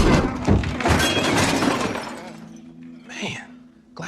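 A glass table breaking indoors, a loud crash and shattering that rings for a couple of seconds, then fades to small tinkling debris and a short later clatter.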